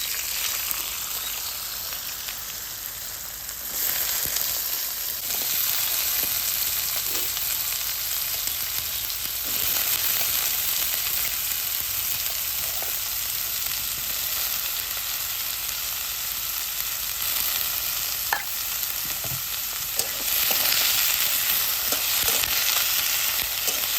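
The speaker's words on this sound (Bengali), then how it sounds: "গোটা লঙ্কা, এই গোটা পোস্ত দিলাম। পোস্তটা কিন্তু পরেও দেওয়া যায়, কিন্তু আগে দিলে নষ্ট হয় না, আর পোস্ত ভাজার গন্ধটা ভালো হয়।" Whole red chillies and poppy seeds fry in hot oil in a pan for gourd-peel fry, a loud continuous sizzle with occasional stirring clinks and no talking.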